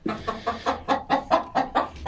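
A broody hen clucks close by in a fast, steady run of about nine short, throaty clucks over two seconds, with no other sound around it.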